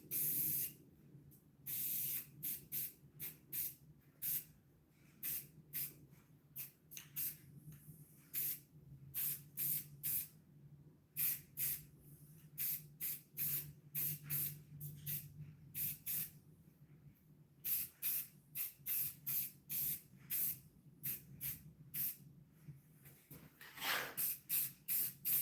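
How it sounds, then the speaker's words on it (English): An aerosol can spraying a coating onto wooden workshop pieces in rapid repeated hissing bursts, some short and some sustained, loud and close with brief pauses between, and no talk. "I'm gonna spray them over here off the table just so that I don't get too much on the table."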